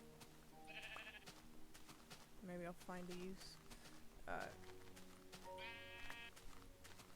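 Several sheep in the Minecraft video game bleat in short wavering calls spread across the stretch, one after another, while a person talks over them.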